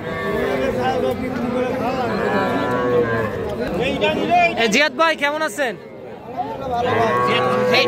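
Heifer calves mooing among a bustling cattle market crowd, several drawn-out low calls rising over constant chatter, and a man greets someone nearby.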